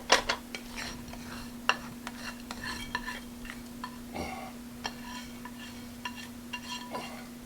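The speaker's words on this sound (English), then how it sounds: "Now I'm going to bring out the casserole dish." Ceramic casserole dish and cutlery being handled in a home kitchen for tuna noodle casserole, a series of close clinks, scrapes and knocks spread over several seconds against a steady low hum.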